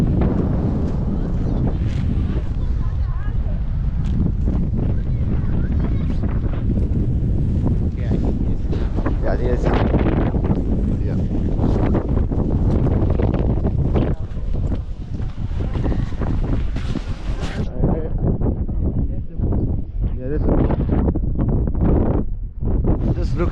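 Strong wind in Tromsø, Norway roars and buffets the microphone, a dense, continuous, loud rush that never lets up.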